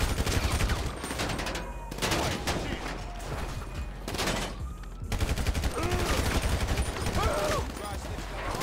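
Gunfire in GTA 5 with a real-life mod. Sustained bursts of rapid automatic shooting come in waves with brief lulls, dense and close, under occasional voices.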